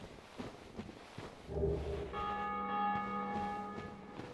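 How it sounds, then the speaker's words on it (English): A bell in Dark Souls tolls with sustained, ringing overtones that swell and hang over faint in-game ambience and footsteps, sounding fairly close. "Do you hear how close that bell sounds?"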